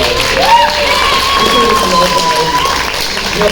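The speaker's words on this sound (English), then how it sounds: "Everybody should give Tim a round of applause." Audience at a San Diego Comic-Con convention panel applauding, a continuous wash of clapping mixed with crowd noise and a few whistle-like cheers, fairly loud and sustained throughout.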